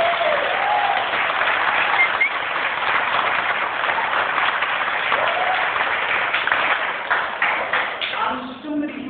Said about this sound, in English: Mr. Wally, give a big round of applause.